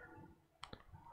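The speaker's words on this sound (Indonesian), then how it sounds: "Saya tekan enter, kemudian saya klik recovery" Two quick, sharp computer mouse clicks close together, soft and isolated over a faint background hum while recovering deleted Microsoft Office files.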